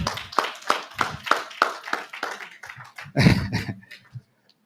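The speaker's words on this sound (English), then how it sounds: "Let's give Sister Serena / Venus another round of applause." Audience clapping at a church Sabbath service, a few loud, sharp, slightly uneven claps in a rhythmic run, then a brief scattered burst before fading to silence.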